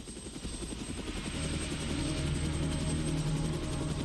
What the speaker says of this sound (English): Then, she hears approaching helicopters.